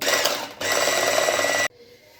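A mixer whips chantilly cream with a loud, close, steady motor whir that steps up partway through, then cuts off abruptly near the end.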